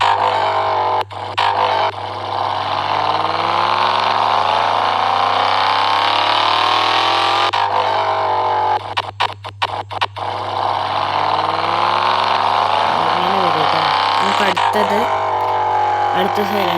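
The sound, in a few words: modified car engine idling with stock silencer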